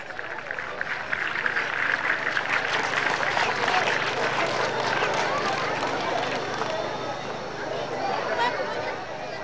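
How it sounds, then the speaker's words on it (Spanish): Loud, sustained applause from a crowd at a union federation gathering in Cochabamba, steady clapping and cheering with chatter mixed in throughout, swelling early and holding. "Le recibamos con un fuerte aplauso"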